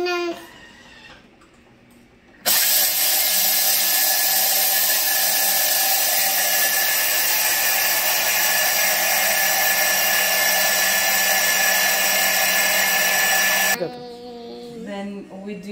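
A kitchen blender grinds 150 grams of rice into flour, a loud, steady high-pitched whir that runs for about eleven seconds without pause, with brief quieter moments before it starts and after it stops.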